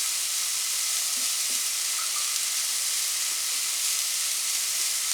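Spaghetti bolognese sauce fries in a pan with a steady, close sizzle, broken by a few soft scrapes as it is stirred.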